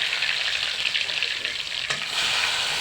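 Garlic and chili paste fries in hot oil in a pan for beef curry, a steady loud sizzle with one brief sharp crackle near the end and no voices.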